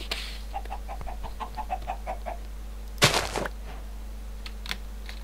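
Chickens in the Minecraft video game give a run of short, evenly spaced clucks, with a louder burst of sound about midway and a few scattered clicks after.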